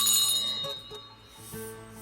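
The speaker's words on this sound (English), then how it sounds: "you hit the notification bell right over here" A bright electronic notification chime rings out in two bell-like tones, the first fading over about a second before a second shorter ding, with a steady tonal hum beneath and no talking.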